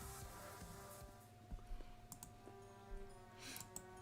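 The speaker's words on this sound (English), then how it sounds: "just doing a little bit of typing here and there" Faint computer keyboard typing in short scattered bursts of clicks, close but quiet over a low steady hum of background tones.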